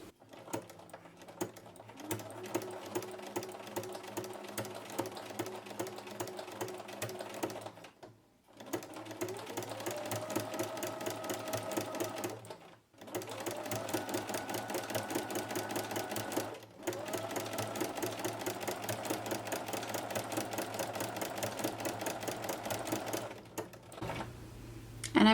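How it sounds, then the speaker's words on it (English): Sewing machine fitted with a ruffler foot stitching fabric, a fast rhythmic mechanical clatter in several long runs separated by short stops, near and steady. "I'm going to go ahead and lower the presser foot and stitch these two pieces together"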